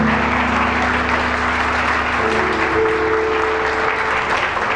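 A large church congregation claps loudly and continuously, with a sustained musical tone humming underneath.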